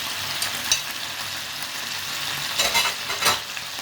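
Onions frying in a pot alongside chicken pieces, with bay leaves and cardamom, for a spiced basmati rice dish: a steady close sizzle with a few stirring scrapes and louder bursts near the end.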